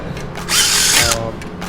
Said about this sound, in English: We're gonna drill out to a 19/64. Drill bit runs through pretty easy.